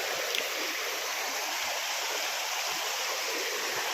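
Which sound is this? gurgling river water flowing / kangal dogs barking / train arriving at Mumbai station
gurgling river water flowing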